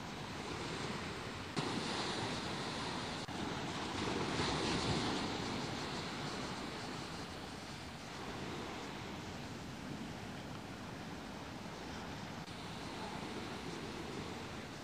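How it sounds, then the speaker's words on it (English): Ocean surf rolling in on a rising tide at sunrise, a steady broad wash of breaking waves close by with some wind rumble on the microphone, continuous and fairly even throughout. "The tide's coming in."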